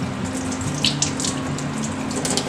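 Tap water runs steadily through the separated layers of a leek being washed under a faucet, a close, continuous gush with soft splashes over a low pump-like hum.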